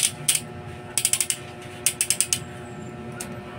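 Flyman torque wrench ratchet clicking after unboxing, crisp close pawl clicks in quick bursts of three to five, separated by short pauses, with a few single clicks at the end.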